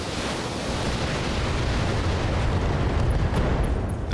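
Mech weapons, a laser and LRM missiles, fire and explode in BattleTech, a continuous heavy rumble of blasts and booms sustained throughout, loud and dense with no talking.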